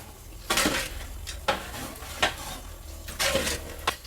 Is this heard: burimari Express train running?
no